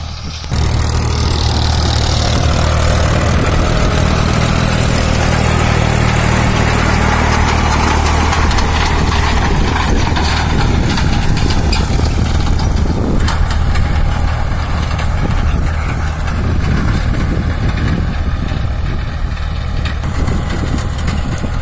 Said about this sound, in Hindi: ट्रैक्टर की चाल देखिए आप, पावर ट्रैक 439 यूरो।